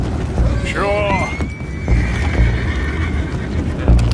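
Horses in Red Dead Redemption 2 letting out a loud whinny near the start, with hooves clopping and a low rumble in the game scene while voices carry on through the noise.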